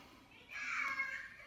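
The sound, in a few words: young child grumbling downstairs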